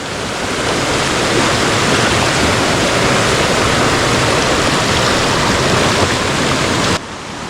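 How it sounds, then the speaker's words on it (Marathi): Loud, continuous rushing of river water flowing, close and steady, cutting off abruptly near the end. "नदीचं पाणी स्लो येतं"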